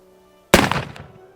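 A Pietta 1858 Bison black powder revolver fires a single sharp, loud shot after a moment of quiet, and a short echoing tail dies away over the next second.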